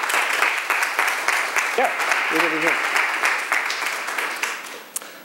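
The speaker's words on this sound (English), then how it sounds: "If we can please give them a round of applause." An audience at a talk on electoral reform in Hamilton gives a round of applause, brisk and fairly loud clapping throughout, while a person briefly speaks over it.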